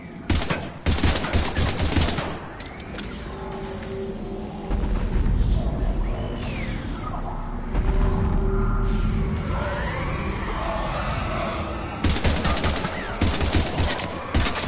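Rapid automatic gunfire bursts from Mass Effect 3 combat, loud clattering volleys opening and closing the stretch, with explosive booms, rumble and game effects filling the quieter middle.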